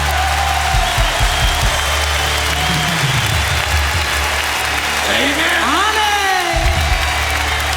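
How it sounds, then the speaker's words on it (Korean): Church congregation at a Sunday worship gathering in Saltillo, Mexico, applauding in a loud, continuous wash of clapping with scattered cheers and whoops, while a voice speaks over it through the room. "Un aplauso a Jesús."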